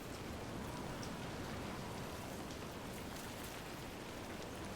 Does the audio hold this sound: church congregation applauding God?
no